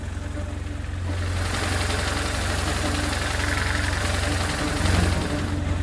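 A boat engine idling and running steadily while it leaks engine oil, a loud continuous low rumble with a rhythmic knocking pulse that swells slightly partway through.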